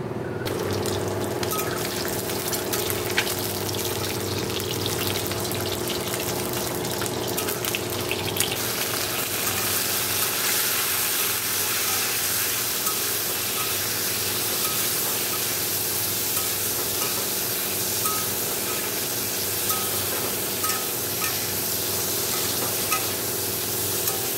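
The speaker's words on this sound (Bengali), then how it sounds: "ডিমটা আগে ভেজে নেবো, তারপর আমি পটল আলু ভেজে নেবো" Egg, potato and pointed gourd fry in hot oil in a wok with a loud, continuous sizzle. Scraping from stirring is heard in the first seconds, then a steady crackling hiss continues close up.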